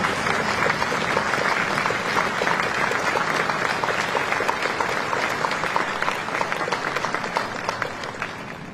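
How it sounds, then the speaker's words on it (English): A large crowd at the Veterans Day observance at Arlington National Cemetery applauds in a sustained, dense wave of clapping that tapers slightly near the end. "please join me in recognizing our veterans' national leadership with your applause"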